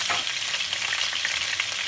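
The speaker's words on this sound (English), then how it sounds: "I fry it so that the flavor could stick better into the meat" Oxtail meat fries in a pot with a steady, close, dense sizzle and crackle that continues without a break.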